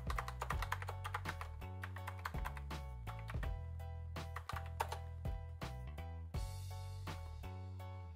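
Someone types a password on a computer keyboard: quiet, close key taps arriving in quick irregular bursts with short pauses between them, with no voices.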